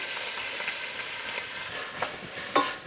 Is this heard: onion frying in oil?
yes